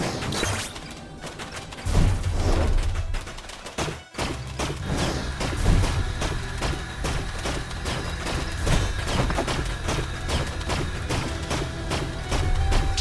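Turret gunfire rattles in Pixel Ripped 1978, dense rapid repeated shots over busy game sound, loud and continuous with a brief drop in the middle.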